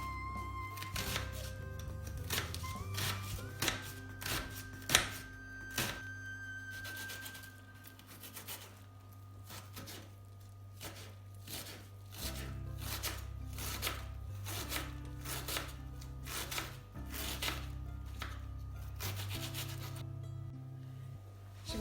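Rapid knife chops tap against a cutting board as red onion is finely chopped, in quick, uneven bursts, close and crisp, with brief pauses between runs of cutting.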